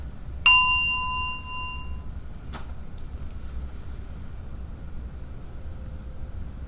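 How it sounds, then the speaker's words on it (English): A meditation bell before bowing to a shrine, struck once with a bright, clear ring that decays slowly, followed by a single softer knock and then quiet room tone. "I'll ring the bell and we'll bow to the shrine 3 times"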